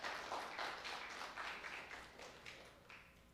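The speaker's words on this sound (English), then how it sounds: "let's give a round of applause for him" A class at a high school recognition gathering gives a short round of applause. The clapping is soft and distant, a faint patter that tapers off over a few seconds.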